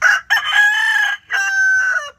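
A fighting rooster on a farm crows loudly and close, two drawn-out calls separated by a short pause.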